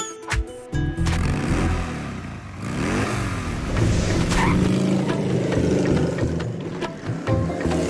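A motorcycle engine runs loudly and steadily, with rising and falling revs that swell and dip over about eight seconds, close by and with no voices.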